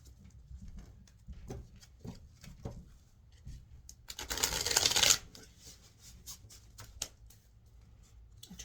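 A brand-new, never-played deck of tarot-style cards is shuffled by hand, soft riffling flicks and taps with a louder burst of rapid card riffle in the middle, close and quiet.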